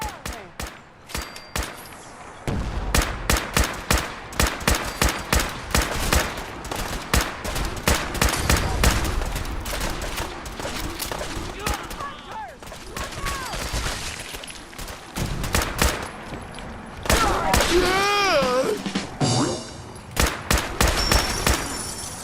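Video game gunfire volley as defenders fire at creatures in the fog, with dense, rapid bursts of loud shots and machine-gun rattle filling the scene, while shouting voices and eerie creature cries come through between volleys.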